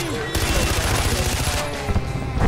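Rapid gunfire crackles in a Far Cry 4 shootout, a dense burst of shots over a vehicle's rumble that lasts a couple of seconds.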